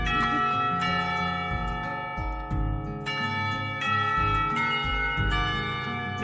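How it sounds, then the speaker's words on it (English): A school's final bell chimes in the visual novel game Katawa Shoujo, sustained ringing tones layered over steady background music for several seconds. "Before long, the final bell rings."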